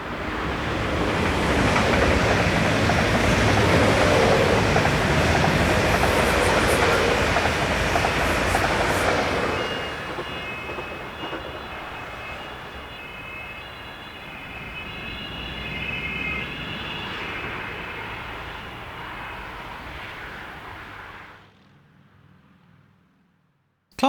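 Swiss Traverso electric train sets, units 526-119 and 526-002, running as the 638 from Bern to Chur, pass close by with a loud rushing roar and wheel noise that eases into a fading rumble before dropping away.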